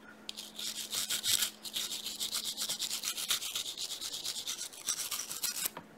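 A small brush scrubs paint off an alcohol-soaked figurine in quick, light, repeated strokes, a close, steady bristly rubbing with brief pauses.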